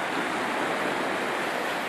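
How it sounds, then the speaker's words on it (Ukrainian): Sea waves breaking against rocks along a shoreline, a continuous broad rushing wash of surf, loud and close with no pause. "Хвилі ніби не є такі, щоб там по 2 метри, але я бачу, як вони до самого берега долітають, вони досить мощно луплять в камні"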